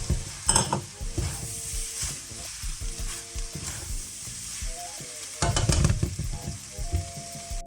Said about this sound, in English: Now we're gonna add our rice to this.